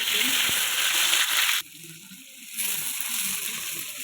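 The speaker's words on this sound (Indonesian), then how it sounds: "ini minyaknya udah panas ya, kita masukin bumbunya" Spice paste hitting hot oil in a pan, a loud broadband sizzle that cuts out sharply partway through, then comes back a second later slightly quieter and steadier, close up.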